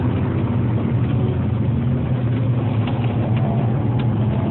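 Loud, steady engine and exhaust rumble from a Renault Clio at a track day, a continuous low drone filling the whole stretch with no break and no talk over it.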